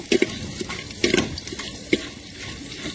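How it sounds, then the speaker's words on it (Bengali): Whole spices dropped into hot oil for a spicy handi mutton, crackling close by with a few sharp pops and splutters over a steady wet sizzle. "এবার তেল গরম হয়ে গেছে এর মধ্যে ছেড়ে দিচ্ছি"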